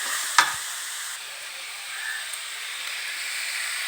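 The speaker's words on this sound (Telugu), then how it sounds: "టమాటా బాగా ఫ్రై అవ్వనిద్దామండి, టమాటా ఫ్రై అవ్వాలి." Tomatoes fry in a pan with a soft, even hiss that runs throughout, broken near the start by one sharp utensil tap.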